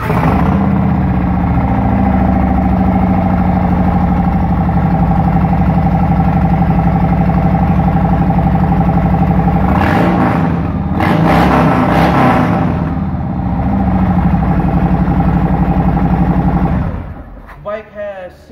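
A Harley-Davidson Sport Glide with a Vance & Hines slip-on exhaust rumbles at a loud, steady idle close by, with a couple of brief throttle blips midway before the engine cuts off near the end.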